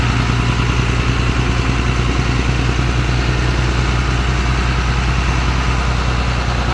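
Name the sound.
Caterpillar 3116 mechanical diesel engine running after warm-up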